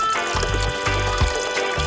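Water is poured in short bursts, three gurgling fills separated by brief pauses, close and fairly loud.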